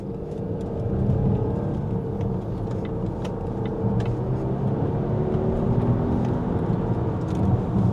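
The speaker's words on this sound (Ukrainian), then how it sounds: "І зараз я нажму газ пол, щоб ви подивилися, як він розганяється." A Volvo XC60 T8 plug-in hybrid SUV of almost 400 horsepower pulling away at full throttle from inside the cabin, a steady rising engine and road rumble with a whirring drone that swells after the first second.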